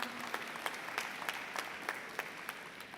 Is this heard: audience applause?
yes